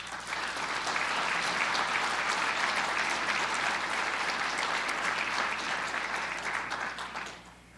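An audience applauds the governor's budget director at a university event, a steady, dense wash of clapping that holds for about seven seconds before fading away at the end.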